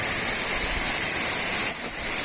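Dense, hissing roar of the Dardagna waterfalls at Corno alle Scale, a mountain cascade heard close and loud, steady and unbroken with no voices.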